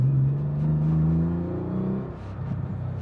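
A 1985 Porsche 911 with a 3.6 Varioram conversion driving fast, its engine giving a loud, close, steady rumbling drone with rising harmonics, easing off briefly near the end before pulling again.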